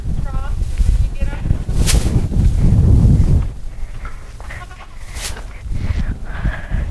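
Goats bleating on a farm, several short wavering calls scattered through the clip, close by, mixed with wind buffeting and a person talking.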